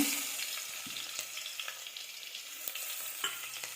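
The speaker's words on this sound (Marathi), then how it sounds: "हा मी तेलामध्ये लसूण टाकते।" Chopped garlic dropped into hot oil as a tempering for a fenugreek-leaf dish, giving a steady close sizzle and crackle with occasional sharp pops and faint stirring taps, with no voices.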